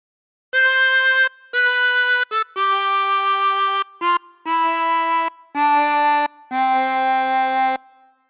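A chromatic harmonica plays the opening phrase of "Joy to the World" as a descending run of about eight clean, reedy blown and drawn notes, close and clear, separated by short gaps and with no speech.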